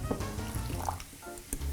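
Lukewarm water poured slowly into fresh Italian pasta dough during home cooking, giving a soft continuous liquid trickle with faint splashes, fairly close and moderately quiet, with no talking over it.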